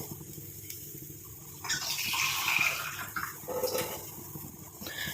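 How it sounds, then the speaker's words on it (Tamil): Water pours steadily into a pot for a few seconds, a bright splashing rush that tapers off, close and moderately loud. "இன்னும் ஒரு அரை டம்ளர் அளவுக்கு நான் இதில் தண்ணி சேர்த்துக்கிறேன்"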